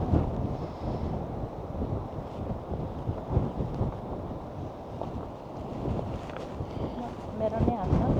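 Wind buffets the microphone on the coast at Sagres, Portugal, with a steady low rumble of ocean waves beneath, continuous and fairly faint throughout, while people talk nearby.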